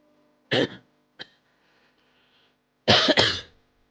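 A person coughs close by: a harsh cough, a short small one, then a louder double cough, separated by quiet pauses.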